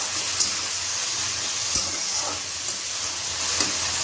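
Sliced cabbage sizzles and steams in a frying pan with onion and potato, under a steady hiss broken by a few soft scrapes and knocks of stirring. Nobody speaks.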